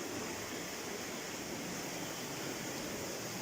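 A riverside at Allensford carries a continuous broadband roar of river water rushing over rapids, steady and fairly loud with no breaks and no voices.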